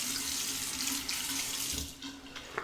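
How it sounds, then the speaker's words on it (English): Tap water running into a sink while a shaving brush lather is being wetted, a steady close faucet stream that eases off near the end. "I like to add a little bit of water."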